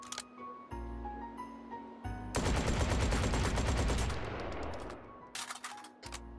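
Gunfire rings out in Hot Dogs, Horseshoes & Hand Grenades VR: a couple of sharp single shots, then a loud, rapid burst lasting a couple of seconds before fading, with a few quieter mechanical clicks at the end.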